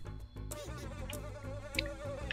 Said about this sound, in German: Bienen.